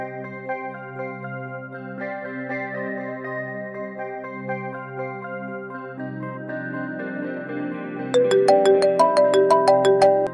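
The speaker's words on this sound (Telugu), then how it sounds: "లిఫ్ట్ చేయి అర్జున్" A mobile phone rings with a looping melodic ringtone that plays alone, then turns brighter and louder with rapid chiming notes near the end.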